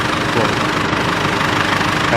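An Isuzu D-Max pickup diesel engine with fault code P0202 (injector 2 circuit) idles steadily with a low, even rumble and light knocking, close by and constant.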